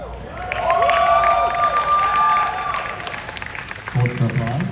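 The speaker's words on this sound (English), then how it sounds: "Hold for applause." Convention panel audience at SpaceCon in San Antonio applauding and cheering, a sustained crowd roar with clapping and whoops, loud and steady for several seconds before thinning into scattered claps.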